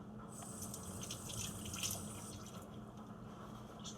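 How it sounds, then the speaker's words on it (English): Water runs steadily from a tap into a sink while hands are rinsed after handling raw ground pork and other meats during tourtière prep, a continuous close splashing wash with small drips and no talk. "just washing my hands from the meat"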